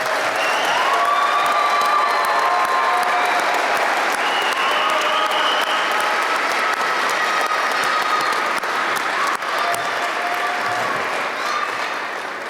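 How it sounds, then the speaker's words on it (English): A large commencement crowd applauds the graduating class of 2021 in a sustained, even roar of clapping with faint cheering, steady throughout and tapering slightly at the close. "Let's have one final round of applause for the class of 2021."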